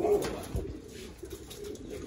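Soft, low pigeon coos repeat a few times nearby against a quiet background murmur.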